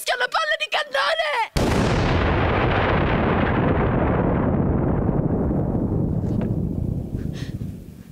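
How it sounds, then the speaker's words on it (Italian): Cannon fire sound effect in an Italian stage performance about Anita Garibaldi: a massive, sustained blast with a long rumbling decay fading over several seconds, following a brief spoken line. "ecco che fischiano palle di cannone!"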